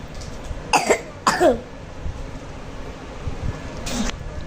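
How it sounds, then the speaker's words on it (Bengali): A person coughs two sharp times close by, then once more a few seconds later, with low background rumble between. "তোর কাশি হচ্ছে নাকি?"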